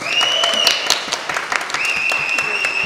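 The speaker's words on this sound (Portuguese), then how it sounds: "Uma salva de palmas para ela." A guest draws brisk applause from a small studio audience, many hands clapping close and steady for a few seconds, with tonal whistles or cheers and some voices mixed in.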